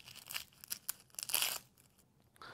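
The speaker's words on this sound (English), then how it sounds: "I'm going to go ahead and peel the onion." Papery onion skin is peeled off a halved onion by hand, irregular crinkling and tearing rustles close up, with bursts of dry crackle and short pauses, no voices.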